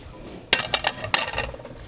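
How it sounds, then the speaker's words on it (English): Soft clinks and taps of a dog's bowl being nudged on the floor as the dog eats, a few quick metallic knocks over quiet background. "And if you hear Spike, my dog, eating in the background"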